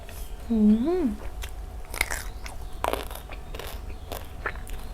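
Crunchy food eaten alongside southern Thai fish-organ curry gives sharp, close bites and crunches spaced a second or so apart. A short hummed vocal sound comes just before them.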